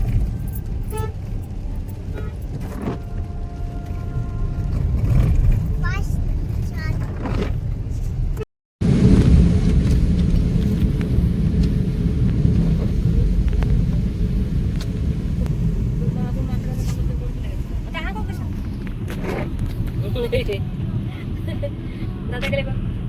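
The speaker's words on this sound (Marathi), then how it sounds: "आमचे साहेब गाडी चालवतात." A car cruises on an expressway during a trip to Trimbakeshwar, Nashik, with a steady low engine and road rumble, a brief dropout and a faint toot, under people chatting inside.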